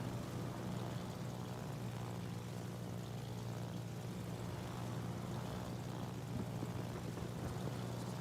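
Aircraft in the naval battle video game World of Warships give off a steady, droning propeller engine hum that stays even and constant with no talking.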